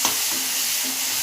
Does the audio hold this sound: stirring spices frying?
yes